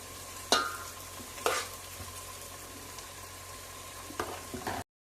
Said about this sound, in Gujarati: તો આવી રીતે આપણે બધી ખીચડી જો આપણા વઘારમાં નાખી દઈએ।